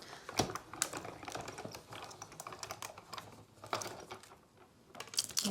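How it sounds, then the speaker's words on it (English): A Sizzix Big Shot die-cutting machine feeding a die and vellum through its rollers, giving a steady run of small ratcheting clicks and mechanical ticks, close and fairly quiet with no talk. "now let's try cutting that same die here from a piece of vellum. Run that through."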